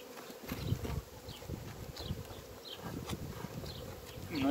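Honey bees buzz around a hive colony in early spring, a steady low drone with close passes of individual bees, moderately loud and continuous.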